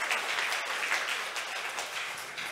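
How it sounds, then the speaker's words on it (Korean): Church congregation applause during a Sunday worship service, a steady wash of clapping heard at moderate distance for a couple of seconds with no talking over it. "우리 하나님께 영광의 박수 한번 드리겠습니다."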